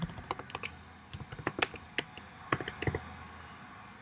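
Fast typing on a computer keyboard while writing JavaScript code, quiet irregular clicks in quick bursts with brief pauses between words.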